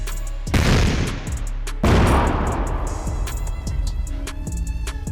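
Tank cannon fire striking Russian tanks in combat: two loud, booming blasts about a second apart, each followed by a long rumbling decay and lingering debris noise.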